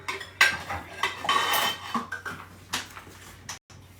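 Dishes being washed, with repeated clatter and clinks of plates, pots and cutlery knocking together at close range in an irregular rhythm, then a brief pause near the end.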